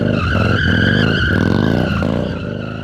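A Yamaha Bolt cruiser motorcycle drifting, its rear tire skidding with a loud, continuous squeal over a steady engine drone for just under three seconds, with no talking.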